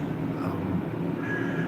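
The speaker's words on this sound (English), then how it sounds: "There's a train passing by behind me, so my apologies for the loud noises" A train passes behind someone speaking outdoors, giving a loud, continuous low rumble with steady rolling noise throughout.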